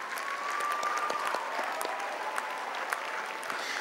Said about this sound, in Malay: Dan kita berikan tepukan yang gemuruh buat tulang belakang kita.